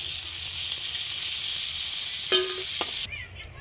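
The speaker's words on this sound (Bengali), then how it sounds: "সুন্দর লাল করে আমি উল্টে পাল্টে ভেজে নিলাম" Fish sizzles steadily as it fries in hot mustard oil, a loud continuous crackle that briefly picks up stirring or turning clatter before falling quieter near the end.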